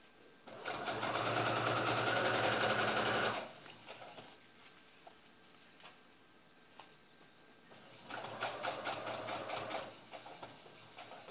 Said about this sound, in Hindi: यहाँ से सिलाई चालू करेंगे।